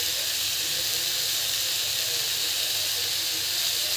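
Vegetables steaming in a pan give off a steady, even hiss that is close and continuous, with no other sounds over it.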